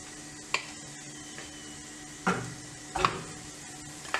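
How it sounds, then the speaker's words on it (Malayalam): Ground dates are stirred into a dry fruit laddu mixture in a pan over low flame, with a few quiet, separate scraping and tapping knocks of a spoon against the pan. "അത് നന്നായിട്ട് ഇതിനകത്ത് മിക്സ് ചെയ്തെടുക്കുക."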